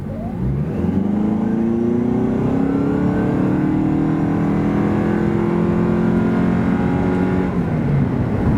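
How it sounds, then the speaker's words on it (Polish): A 2024 Toyota Prius plug-in hybrid (2.0, 223 hp) accelerates hard and steadily, its pitch rising continuously for several seconds before easing off near the end, loud and close. "to auto tak rusza od 0 do setki"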